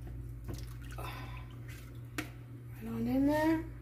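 A sausage and potato casserole mix pours into a dish with a soft trickling, a faint clink midway, and a rising gurgle toward the end.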